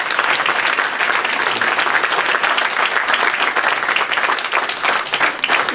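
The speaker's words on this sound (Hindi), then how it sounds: "एक बार जोरदार ताली बजाइए।" An audience of about 75 to 80 people at a religious discourse breaks into loud, sustained applause, a dense steady roar of clapping filling the whole stretch.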